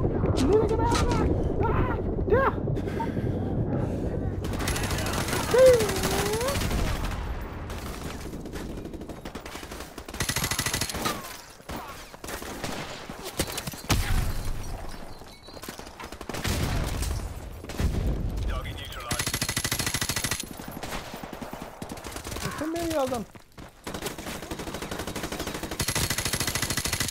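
Bursts of gunfire from the video game Call of Duty: Modern Warfare Remastered, loud and frequent across the scene with explosions and battle noise, while voices talk over much of it.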